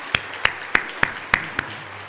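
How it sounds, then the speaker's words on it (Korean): A church congregation claps at a Sunday worship service, giving six sharp, evenly spaced claps in near unison, fairly close and ringing slightly in the hall. "모든 찬양도 높이 올려드리며 박수를 올려오겠습니다"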